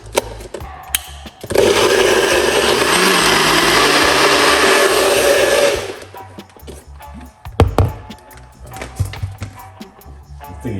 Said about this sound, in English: this blender is not a silent blender,